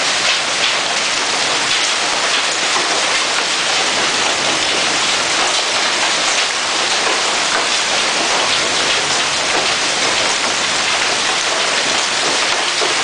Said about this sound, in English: It has not stopped hailing.